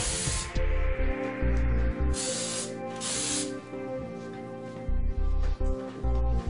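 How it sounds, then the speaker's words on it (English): Setting spray hisses onto a curly synthetic wig in several short bursts, close and distinct, separated by brief pauses. "And then as a final, just setting spray,"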